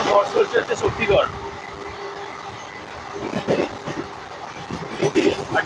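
Heard from inside the Sahid Express, a moving train rumbles steadily with rhythmic rail clatter, and people talk close by over the running noise.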